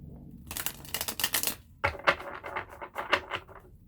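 A tarot card deck being shuffled, with quick papery riffling bursts in two close, crisp runs separated by a brief pause.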